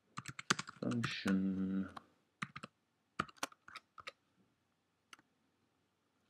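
Code being typed on a computer keyboard, a brisk run of close, sharp key clicks in uneven bursts with pauses between, joined by a short stretch of talk near the start.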